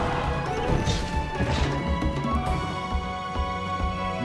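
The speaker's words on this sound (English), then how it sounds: "Okay, let's do a power with the hammer." Heavy blunt hammer smash attacks in the video game Monster Hunter Stories 2, dense crashing impacts layered over busy game music and effects, loud and continuous throughout with no talking.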